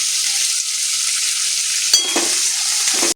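Chopped onion frying with tomato and a little coriander in a pan, a continuous bright sizzle with a brief stir or clatter near the middle, no voices.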